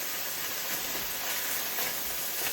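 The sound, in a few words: minced beef frying in a pan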